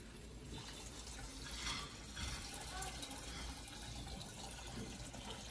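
Tap water runs steadily into a saltwater fish tank that is close to full, giving a continuous faint rush and trickle with no talk.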